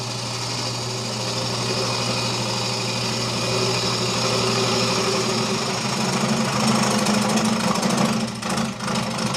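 A woodturning tool being sharpened: a steady droning motor hum with a rough grinding texture on top, growing slightly louder and grittier toward the end, with no speech.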